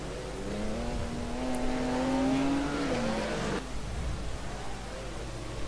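Race car tyres locking up under braking in the rFactor racing game, on a 1958 Monaco street circuit heading toward Mirabeau: a rising engine whine with a tonal squeal for about three seconds, then an abrupt cut to lower engine rumble.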